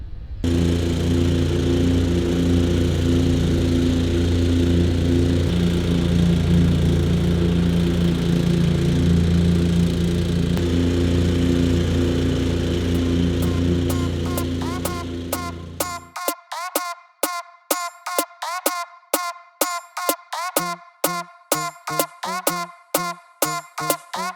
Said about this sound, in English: let's get it mowed right quick